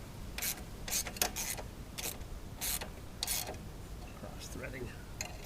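Threaded parts on a tow-behind vacuum being screwed in by hand in a dusty outdoor spot, with intermittent scraping, ratcheting metal-on-metal bursts, several short gritty rasps spaced irregularly over low background noise.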